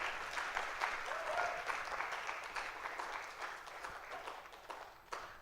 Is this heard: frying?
no